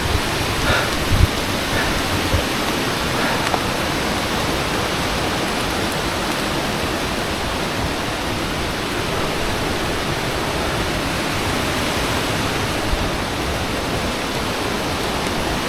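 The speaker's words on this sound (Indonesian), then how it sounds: "Nggak terlalu keras sih, cuma ya namanya hujan." Steady rain falls through a dense mountain forest on Mount Wilis, a continuous even hiss of drops on leaves that stays constant and fairly close throughout, with no voices.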